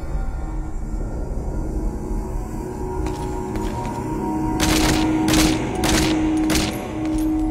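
Bursts of video game gunfire from guards ring out, with a run of sharp, loud shots clustered near the end over a steady background din.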